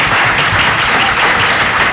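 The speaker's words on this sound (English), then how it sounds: "can you guys give the panelists a round of applause" An indoor panel audience claps loudly and densely, a steady wash of applause filling the room for its whole length without a break.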